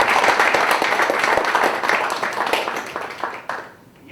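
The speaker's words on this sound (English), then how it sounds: "So just a big round of applause for everyone in the room today." A room of sponsors and charities at a mental health football World Cup draw bursts into steady, dense applause, many hands clapping together before it fades out near the end.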